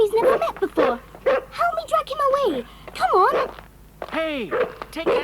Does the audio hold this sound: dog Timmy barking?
yes